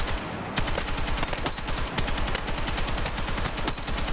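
An automatic rifle fitted with a CCO 2.0 red dot sight fires at a Battlefield firing range, a fast, relentless volley of close, loud shots that keeps going for several seconds without a break.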